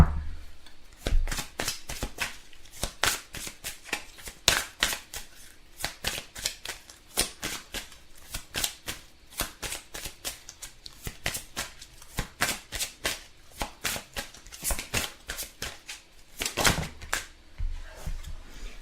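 Tarot cards shuffled again and again, a long run of sharp riffling bursts in quick uneven succession, close and fairly clear with no talking.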